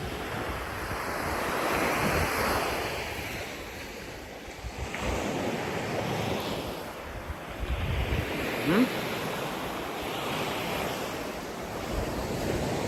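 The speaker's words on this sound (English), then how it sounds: "You guys can see a little bit of a breeze and the waves hitting the sand." Ocean waves wash onto the sand at a white-sand beach on Sesoko Island, Okinawa, with a light breeze buffeting the microphone; surges rise and fall in slow swells over a steady roar of surf.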